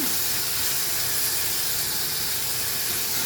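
Tomatoes, onion and green chilli sautéing in a pan over a medium flame, a constant close sizzling hiss with no break.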